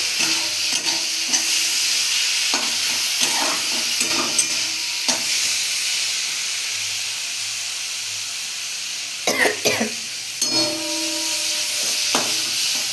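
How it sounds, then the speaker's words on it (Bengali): Spiced curry with a splash of water sizzling and steaming in a pan, a continuous hiss punctuated by repeated scraping stirs and spoon knocks, close and fairly loud. "ভাজা ভাজা হচ্ছে।"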